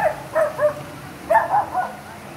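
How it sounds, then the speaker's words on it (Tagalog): Two quick bursts of dog barking, a few short yapping barks each, fairly close against a quiet background. "Ingay ng aso."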